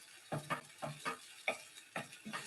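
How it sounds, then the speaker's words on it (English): Low protein cream cheese is stirred into mushroom liquid in a pan, making soft, wet scraping strokes about every half second, close and quiet with a faint sizzle beneath. "Give that a little stir."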